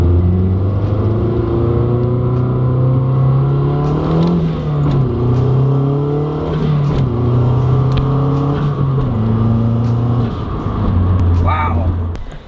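A Mazdaspeed 3 fitted with an upgraded motor mount accelerates hard in first, the engine note climbing loud and close before it drops for the shift into second and builds again, with a voice heard over the engine.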